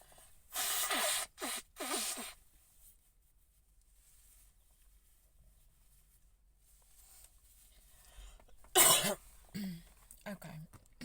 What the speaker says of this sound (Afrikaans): ek wil net gaan my neus blaas